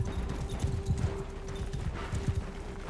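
Mounted horse archers charge across a battlefield in Mount & Blade II: Bannerlord, a dense clatter of many hooves clip-clopping at a fast rolling rhythm, moderately close and continuous.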